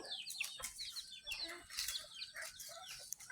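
Chickens cluck and squawk close by in a rapid, busy series of calls, with quiet sounds of a rural yard behind them.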